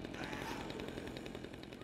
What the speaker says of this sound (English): chainsaw can just burst through all these mobs